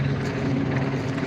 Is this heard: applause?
no